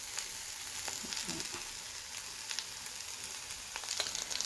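Sautéed vegetables with garlic, herbs and pepper frying in butter, a continuous soft sizzle with a few faint clicks of stirring, close but quiet.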